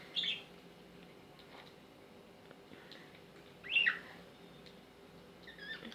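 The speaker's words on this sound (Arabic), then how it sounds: "انا حبيت اوريكم العصافير بتاعتنا الجميلة الجديدة دي" Pet birds kept at home give a few faint, scattered chirps, three short bursts spread over quiet room noise with no talking.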